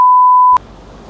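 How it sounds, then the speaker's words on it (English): A steady electronic beep from a slow parking ticket machine in a car park, one long tone lasting about half a second, then cut off by a short click and low background rumble. "Slowest ticket machine ever."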